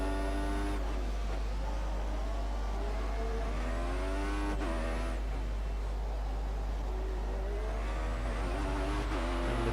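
Formula One cars entering the pit lane in the racing game F1 2014, a loud whining engine note with gear-shift pitch sweeps and a constant low hum underneath.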